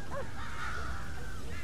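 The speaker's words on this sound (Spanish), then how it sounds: "¿Cuántos cuervos tengo que matar?" Crows caw a few times in Red Dead Redemption, faint and somewhat distant against a steady game ambience, with brief hoarse calls near the start.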